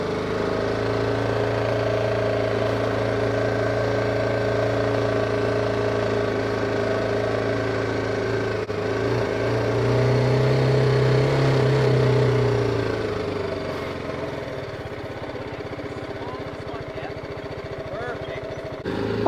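Motorcycle engine rolling slowly in first gear, a steady mid-pitched drone that swells briefly then settles back, with a person talking over it throughout.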